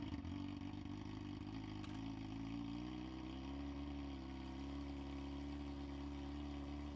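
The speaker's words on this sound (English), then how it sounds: "Let's start her up and get that rear tire spinning on the stand." A Kawasaki 636 sport motorcycle with a new rear sprocket runs on a stand, its engine holding a steady, even hum while the rear wheel spins, recorded from a distance with no talking.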